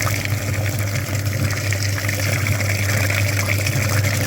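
A pump flushing the engine cooling system of a KIA Rio or KIA Carens runs with a steady low drone while liquid rushes and gushes through it continuously, loud and close.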